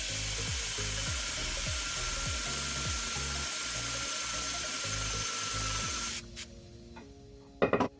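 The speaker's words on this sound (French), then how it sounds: "Avec une mèche à bois de 20 mm en mode perçage, en vitesse 1, j'attaque un morceau de chaque." Makita 18V cordless hammer drill at speed 1 in drilling mode, driving a 20 mm wood bit into wood, with a loud close whir and regular rhythmic pulses for about six seconds, then stopping with a few clicks.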